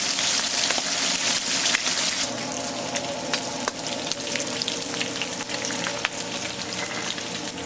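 Food sizzles and fries steadily on a Camp Chef FTG600 flat top grill, a dense continuous crackle with small pops and scrapes running throughout at close range.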